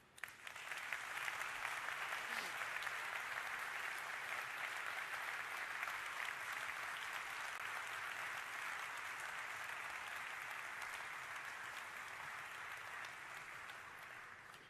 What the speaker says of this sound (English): I would like to have an applause, a special applause for our associates in Plant Spartanburg